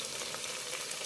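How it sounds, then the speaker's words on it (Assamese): Chopped tomatoes frying in a pan for a home recipe, a soft, steady hiss and sizzle with faint bubbling, even and close throughout. "এইকেইটাও ধুনীয়াকৈ গলাই ল'ম ভাজি।"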